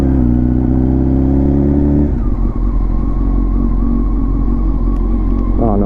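A Honda CBR929RR sport bike with a new radiator roars loud and close on a test ride, revving hard through climbing gear pulls before settling into a steady high drone with a brief rise at the end.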